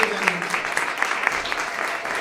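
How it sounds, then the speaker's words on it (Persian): Audience at a first-grade alphabet celebration at Shahid Fahmideh school in Yerevan, clapping for the class parents, a steady, fairly loud wash of applause with distinct individual claps. "یک دست خیلی خوب و تشویق انگیزه‌ای خیلی خوب برای اولیای بزنیم"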